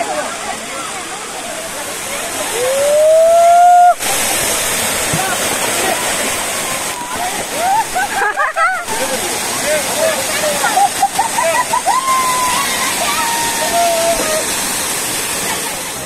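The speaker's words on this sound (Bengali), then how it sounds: "এই ড্যামের জলই ওভারফ্লো হয়ে এখানে সিঁড়ি মতো করা আছে, এখান দিয়ে পড়ে এরকম ঝর্ণার আকার নিচ্ছে।" Overflow from Bhushi Dam near Lonavala cascades down stepped concrete like a waterfall, a loud, steady rushing roar that fills the scene, with voices and brief whistly sounds faintly over it.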